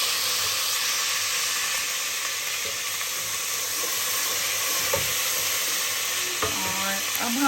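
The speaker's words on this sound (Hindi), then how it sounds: "और अब हम इसके अंदर डालेंगे लहसुन और अदरक का पेस्ट।" Garlic and ginger paste frying in hot oil in a pot over low heat, a constant loud sizzle and hiss with occasional stirring scrapes near the end.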